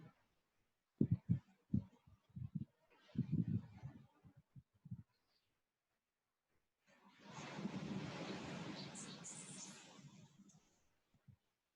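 After a few scattered thumps and handling noises, a rush of waves and wind swells up for several seconds, then fades away.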